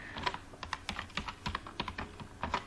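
Fingers type a Python statement on a computer keyboard: a quick, irregular run of crisp, close key clicks over about three seconds, with no voices.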